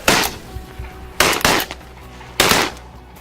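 Four loud, sharp shotgun blasts ring out during an outdoor duck hunt, the middle two fired in quick succession, each with a short fading tail.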